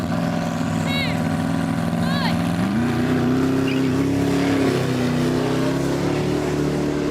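Ferrari and Koenigsegg Regera supercars launch from a standing start in a race, a loud steady engine drone rising in pitch as they accelerate, with faint voices and chirps early on.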